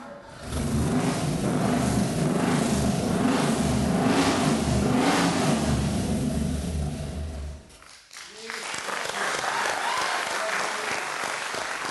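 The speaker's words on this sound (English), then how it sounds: "the thing that I want to hear is the 351 V8 that didn't get to line up on the grid at Bathurst in 1972" A Ford 351 V8 race car engine from the 1972 Bathurst era revs loudly and continuously, a deep roaring growl that dips briefly before climbing again, with crowd-like noise mixed in.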